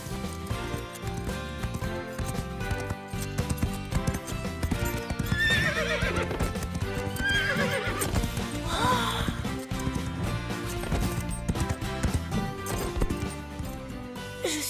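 Cartoon horses clip-clop in a steady rhythmic gallop while a couple of high, loud neighs ring out over an orchestral music score.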